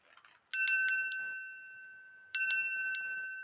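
A glass bell is struck twice, each strike giving a bright, clear ring with a few quick rattling follow-up taps. The tone sustains and slowly fades, close and alone, with faint murmuring before the first strike.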